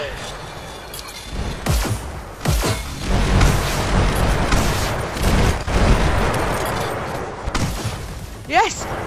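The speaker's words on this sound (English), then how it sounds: "Stop shooting me." Rapid gunfire and blasts in a Hyper Dash Payload match with rockets, dense and loud bursts over several seconds while players talk excitedly over the action.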